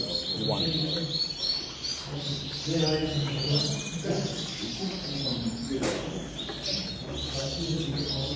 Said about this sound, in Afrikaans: This is a very nice bird.